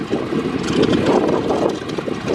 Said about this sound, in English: Clear prop, Dave